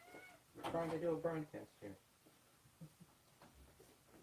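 A cat meows in a drawn-out, wavering call, loud and close, followed by someone speaking briefly as the meowing fades.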